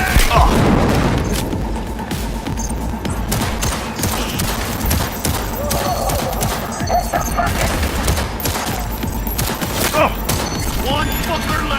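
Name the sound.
grenade explosions and gunfire in the video game Cyberpunk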